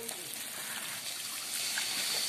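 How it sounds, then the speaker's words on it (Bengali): Water poured into a pan of chicken curry (murgi bhuna) during cooking, a steady broadband trickle and splash that grows slightly louder toward the end, close and continuous. "এখন এর মধ্যে পরিমাণ মতো পানি দিয়ে দেওয়া হবে"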